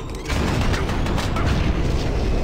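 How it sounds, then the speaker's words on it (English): A grenade explosion during an ambush in Doom 3 BFG, a heavy boom that swells into rumbling, crackling blast noise with a few sharp bursts, loud and close throughout. "This is a good time to use grenades as an ambush"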